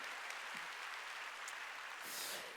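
A church congregation at a Wednesday worship service applauds, a faint, even wash of many hands clapping continuously with a slight swell near the end.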